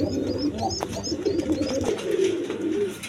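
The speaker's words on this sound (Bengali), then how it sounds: "খুব সুন্দর কবুতর দেখেন, ওই যে দুইটা ডিম নিয়ে বসে রয়েছে" Several pigeons coo softly nearby in overlapping, throaty phrases, with thin chirps above them and a constant low background murmur.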